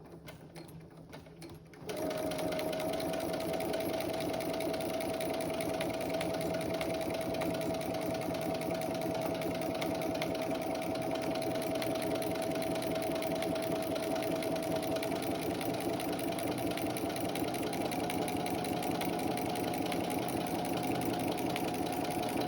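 A sewing machine stitches fabric for a boxy makeup pouch with French seams, running in one continuous, steady mechanical whir for about twenty seconds after a brief quieter start, close and loud with no talk.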